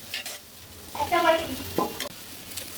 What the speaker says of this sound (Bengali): সামান্য তেল একটু কালো জিরে পড়ুন এর মধ্যে গুলো দিয়ে দেবো